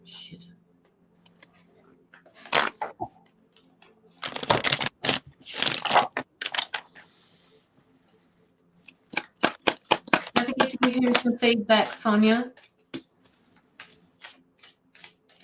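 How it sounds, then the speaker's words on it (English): Tarot cards shuffled loudly by hand in quick riffling bursts at close range, in several separate rounds with gaps between them, while someone speaks briefly and other voices talk nearby. "Aldo's card shuffling reminds me of Jamie's card shuffling"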